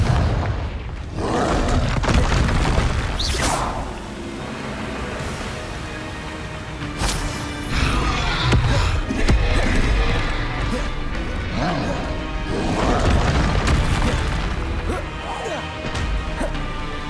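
Confringo fire spell blasts in Hogwarts Legacy gameplay: repeated loud explosive booms and crashing impacts burst out one after another over a continuous rumbling game soundscape.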